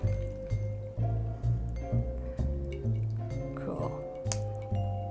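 Homemade beet stock strained from a pot, liquid pouring and dripping with splashes, soft clinks, and a repeated rhythmic series of bumps and squishes, fairly close and moderately quiet.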